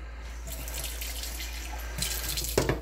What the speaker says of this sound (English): we're gonna add a little bit more water